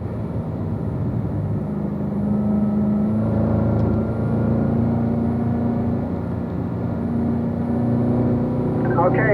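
A car engine drives along a road at steady speed, a continuous close rumble with a gentle rise in pitch as it pulls through a gear, while a driver talks over it.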